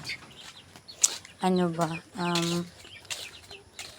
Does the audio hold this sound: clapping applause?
no